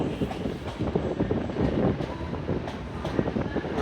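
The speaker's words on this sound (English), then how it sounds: "Arriving in now is a Northern Trains fishbowl." A Northern Trains class 333 'fishbowl' electric unit rolls into Leeds station, a rumbling low roar with rhythmic clicks of wheels over rail joints and some wind buffeting the microphone, fairly close and steady throughout.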